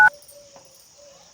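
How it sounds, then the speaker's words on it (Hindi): A phone number being dialed: a short, sharp keypad tone at the start, then a faint, steady line hum with soft clicks. "फोन लगाई"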